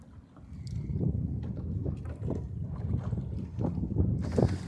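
Wind and water aboard a schooner under sail in light breezes, a soft rushing wash of water and airflow with gentle swells of noise rising and falling.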